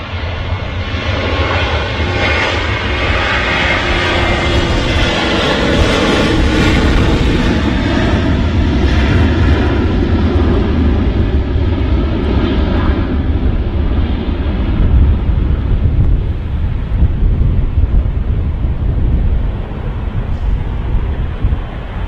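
A Ryanair jet airliner roars at Manchester Airport, a loud, broad rumble close by that swells and then slowly fades, with wind buffeting the microphone and no talk.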